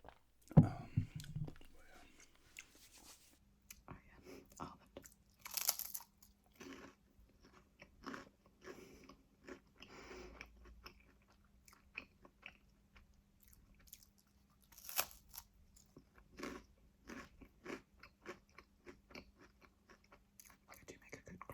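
Biscuits and cookies crunched and bitten between sips of tea or milk in a close-miked ASMR setting, giving repeated short crisp crunches at irregular intervals, quiet and near, with soft mouth clicks between bites.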